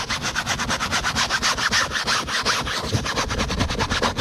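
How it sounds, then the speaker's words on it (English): A brush with cleaner scrubs a car in quick, even back-and-forth strokes, loud and close, with a steady rasping rhythm and no voices. "Now I could come in and just scrub it with my brush."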